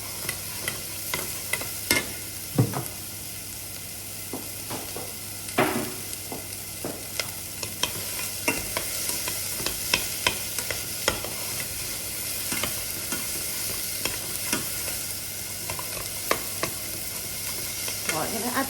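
Vegetables sizzling and being stirred in a pan on the hob for a pastry recipe filling, with a steady frying hiss broken by repeated scraping stirs and occasional clinks, close and fairly loud throughout.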